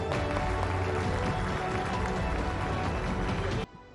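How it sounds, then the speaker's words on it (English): Dense, loud applause with cheering from a summit audience welcoming film director Ayan Mukherjee, a sustained wash of clapping that cuts off abruptly at the end. "A huge round of applause for the director of Brahmastra, Ayan Mukherjee."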